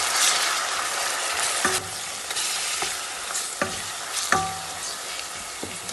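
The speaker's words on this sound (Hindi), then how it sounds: "अब इसके अंदर हम लोग लहसुन गार्लिक का पेस्ट डाल देंगे और इसे 1-2 मिनट के लिए भूनेंगे" Garlic paste fries in a pan while a spoon stirs it, giving a steady hissing sizzle broken by several sharp scraping and clinking strokes of the stirring utensil against the metal.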